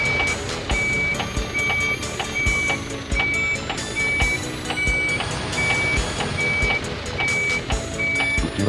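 Tokyo Bus Guide 2 video game bus sounding steady, evenly spaced reversing beeps while parallel parking, roughly twelve loud beeps over a dense rumbling engine and traffic bed, with no talk.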